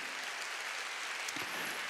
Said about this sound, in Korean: 박수 치려면 세게 치라고요